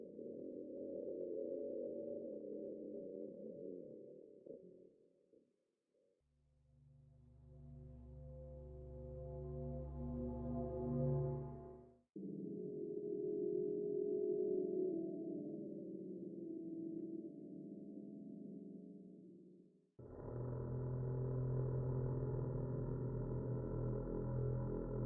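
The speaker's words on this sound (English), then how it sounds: "there are 4 new cave sounds" Four new Minecraft cave sounds play one after another, eerie sustained synthetic drones and hums with shifting tones, each block several seconds long, with no talking.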